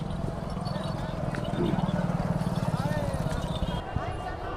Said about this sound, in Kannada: ಒಂಟೆ ಸವಾರಿ ಮಾಡ್ತಾ ಇದ್ದಾರೆ ಕ್ಯಾಮಲ್